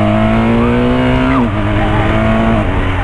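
A BMW R1200 motorcycle accelerates with a steady, loud engine drone whose pitch climbs, dips sharply as a gear changes, then climbs again, heard up close from the bike while riding.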